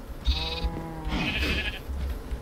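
Two bleats from a brown sheep in the video game Minecraft, short nasal wavering cries in quick succession, clear and close against a quiet background.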